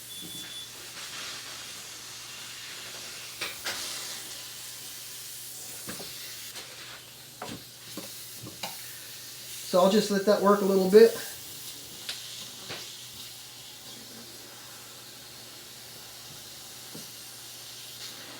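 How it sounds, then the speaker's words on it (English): Steam hisses steadily for about a second into a guitar neck joint to soften the wood, amid soft clicks and handling noises, with a person speaking briefly before it. "the steam is going to soften this wood"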